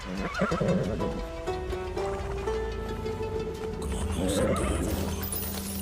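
A horse neighs in a Hindi action movie scene, a loud, wavering whinny rising and falling across several seconds amid busy background noise and faint hoof sounds.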